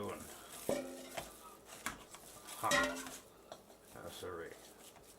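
Yak ball mixture is stirred in a bowl, with scattered clinks and scrapes of a utensil against the dish, faint and intermittent, under a few spoken words.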